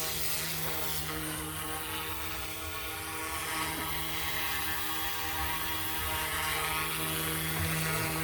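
A Carmanon Airwolf RC toy helicopter at 27:1 scale flies with a continuous whirring rotor buzz and steady motor whine, fairly close and unbroken.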